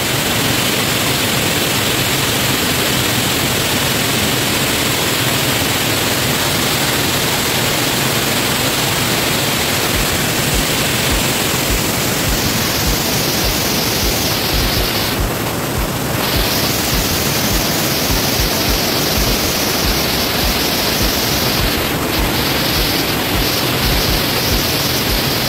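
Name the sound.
Mimbalot Falls waterfall rushing water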